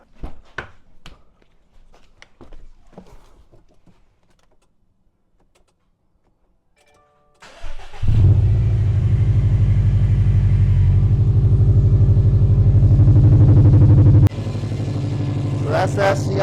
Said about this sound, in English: Let's go ahead and give the car a start.